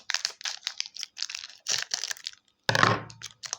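Rapid, crisp crinkling and snipping of a thin Dubai chocolate bar wrapper cut with scissors in short bursts, followed by a sharper crackling rustle, close by with no talking.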